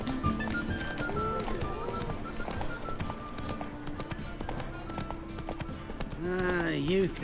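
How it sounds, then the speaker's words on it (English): Horse hooves clip-clop steadily in The Witcher 3 video game, a repeating trot under a continuous music or ambient bed, with a voice talking over it. "I hope you don't mind that my horse eats your grass"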